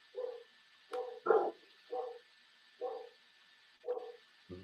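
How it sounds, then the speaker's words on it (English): Dogs in a home bark several times, near and fairly loud, in evenly spaced single woofs with pauses between them, over a faint steady hum. "My dogs are going nuts."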